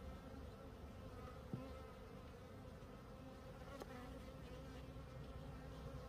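Honey bees buzz steadily from an open Layens hive, a dense continuous hum close by with a couple of faint knocks, no talking.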